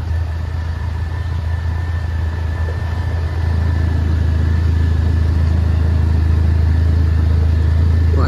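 A car engine hums steadily while driving along a quiet village road in the evening, a constant low drone that grows slightly louder partway through, heard from inside with no talk.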